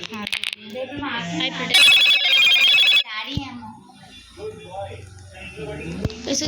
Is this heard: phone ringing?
yes